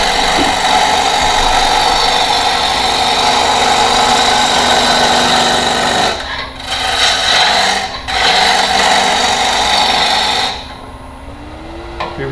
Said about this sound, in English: Cut a little more aggressively to speed through this.